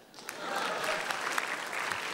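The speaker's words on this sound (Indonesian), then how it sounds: "sekarang boleh tepuk tangan untuk saya" Studio audience applause at a stand-up comedy competition show, a steady, full wash of clapping lasting the whole short stretch with no voice on top.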